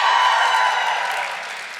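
Audience applause with some cheering at a public reading event for student literary magazines, a steady broad wash of clapping that holds loud and then slowly fades over a couple of seconds.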